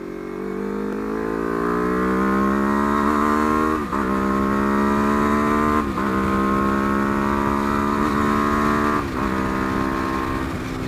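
A motorcycle fitted with a low-cost aftermarket quickshifter revs steadily at low RPM, its loud harmonic drone broken by three short dips as the quickshifter cuts in, with no talking over it.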